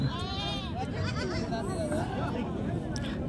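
Several goats bleat at a goat market, their wavering cries rising over a busy background of crowd chatter and people talking nearby.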